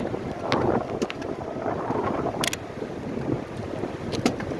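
Steady wind buffets the microphone while bicycling along Fort Myers Beach in Florida, a continuous broad rushing roar with a few brief sharp clicks, close and fairly loud throughout.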